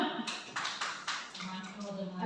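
A group applauds at a teacher training session, with several seconds of scattered hand claps and talking voices in the room.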